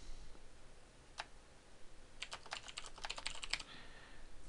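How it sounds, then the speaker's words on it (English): Quiet typing on a computer keyboard while composing an email, one lone keystroke and then a short run of soft clicking keys, close, with no talk. "Type a subject line"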